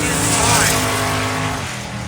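A stick-shift Mopar drag car roars down the strip at a summer radial drag racing event, a loud sustained engine howl that holds steady and then gradually fades as it pulls away, with a commentator talking over it.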